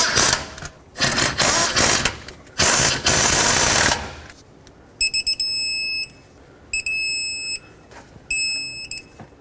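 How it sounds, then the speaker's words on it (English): A torque wrench tightens idler pulley bolts on a Chevrolet Express van: several bursts of rapid ratcheting clicks, then three short repeated electronic beeps as the set torque is reached. "go ahead and snug them up, and we'll torque them all to 37 foot-pounds"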